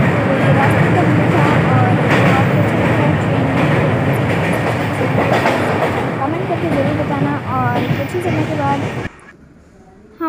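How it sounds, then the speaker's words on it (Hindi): A train at an Indian railway station in Uttar Pradesh, reached by a village wedding party, rumbles past with a dense, loud steady roar under the chatter of people talking, until the noise cuts off abruptly near the end. "ये देखिए ट्रेन का व्यू"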